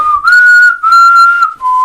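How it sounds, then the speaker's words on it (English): A person whistles a sustained, slightly wavering tune in three clear phrases separated by short breaths, loud and close, with no other sound. "Ooh, I can whistle."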